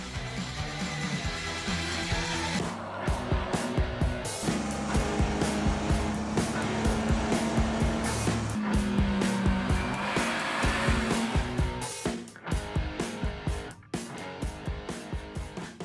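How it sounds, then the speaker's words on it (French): A Polaris Slingshot three-wheeled roadster drives with a sustained engine drone whose pitch rises and shifts, staying loud before dropping away near the end. "Le Polaris Slingshot, un véhicule aussi amusant que déroutant aux commandes duquel on ne peut pas passer inaperçu."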